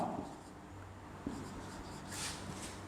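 Chalk or marker scratching on a board during a Class 9 maths lesson on triangle constructions, a soft faint scrawl with one small tap, no talking over it.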